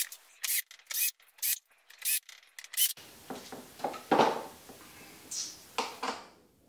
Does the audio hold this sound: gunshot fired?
no